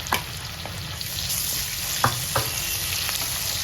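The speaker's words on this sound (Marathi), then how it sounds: "कांदा ते थोडासा परतून घ्यायचा" Onion and masala sauté in a pan, a steady close sizzle with a few soft stirring scrapes and clinks, no talking.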